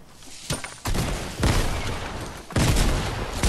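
Grenades explode in a Fortnite match, several heavy booming blasts in quick succession, each a sharp burst followed by a rumbling wash of noise.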